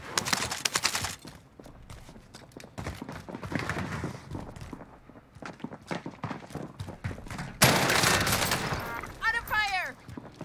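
Scattered and rapid gunfire from the Warzone video game crackles at varying distances over several seconds, with players talking over it.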